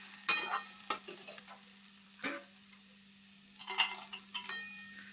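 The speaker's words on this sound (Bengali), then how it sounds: "বাদাম এবং ধনেপাতাটা সবজির সঙ্গে একটু ভালোভাবে নেড়ে চেড়ে মিশিয়ে নেব।" A spatula stirring and scraping a cauliflower filling with fried peanuts and coriander in a pan, a few sharp clinks and scrapes separated by quiet gaps over a soft background hum.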